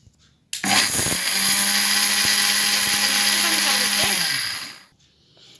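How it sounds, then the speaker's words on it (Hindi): An electric mixer grinder grinding a herbal home remedy whirs loudly and steadily for about four seconds, starting abruptly and then spinning down to silence. "ये देखिए अब हम मिक्सी ऑन करेंगे"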